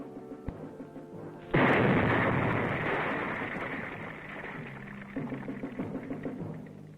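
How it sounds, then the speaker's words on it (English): A Viet Cong mine detonates in a single loud blast that rolls into a long, decaying rumble of debris and echo, heard alone without voices. "his mine explodes"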